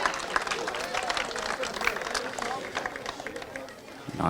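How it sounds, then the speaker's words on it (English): Crowd applause at a kart racing championship podium ceremony, continuous outdoor clapping mixed with cheering and background babble of voices. "Please give a huge round of applause for number 11, DHR, Marcus Luzio."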